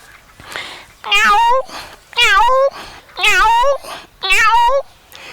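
A man imitates a house cat with four loud, drawn-out meows in an even rhythm, separated by short pauses with faint breathy sounds in between.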